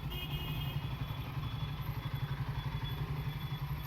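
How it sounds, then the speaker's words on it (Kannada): Motorcycles idle and rumble steadily near the main gate of the Krishna Math as riders arrive, a low continuous engine throb with faint clatter and no talk. "ರೈಡರ್ಸ್ ಎಲ್ಲ ಬಂದಿದ್ದಾರೆ ನೋಡಿ ಬೈಕ್ ಬೈಕಲ್ಲಿ"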